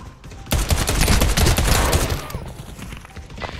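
A dense volley of rapid overlapping gunshots in the VR shooter game Pavlov, loud and close, bursting out suddenly, then thinning into scattered trailing shots.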